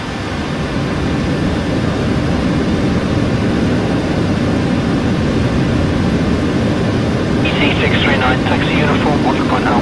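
A simulated Boeing 747 in the PMDG flight simulator taxiing at Brisbane, its jet engines giving a steady, loud, broadband roar with a low rumble throughout, plus a whining tone that joins near the end.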